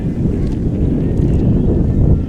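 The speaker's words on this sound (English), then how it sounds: "there's been a lot of like big gusts of wind every once in a while" Wind buffets an outdoor microphone at an ultimate frisbee match, a loud, rumbling low roar that churns steadily throughout the short stretch with no clear voices.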